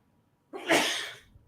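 A single sharp sneeze bursts out close by after a moment of quiet, trailing off quickly.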